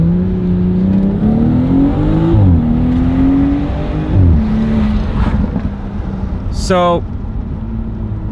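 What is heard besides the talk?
BMW with dual-clutch transmission lurching on upshifts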